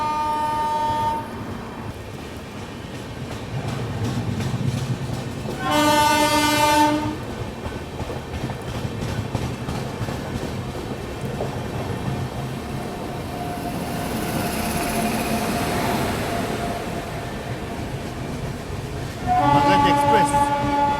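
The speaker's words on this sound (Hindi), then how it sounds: "कोई तो ट्रेन जो है वो आ रही इधर से" Passing train, likely the Mumbai-Lucknow Pushpak Express near Govindpuri, with continuous rolling clatter and repeated horn blasts at the start, the middle and the end, under occasional talk.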